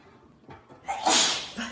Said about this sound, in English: It's a tiny sneeze.